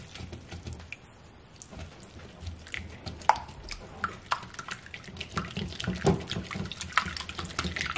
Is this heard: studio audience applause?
no